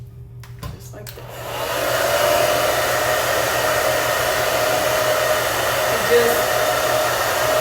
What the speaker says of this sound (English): with the hair dryer on the outside of the cap